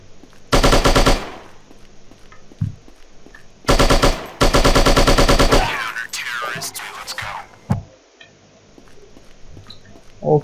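Machine gun fire in the mobile shooting game Striker comes in two loud sustained bursts of rapid shots, followed by shattering and squishing impact effects and scattered quieter game sounds.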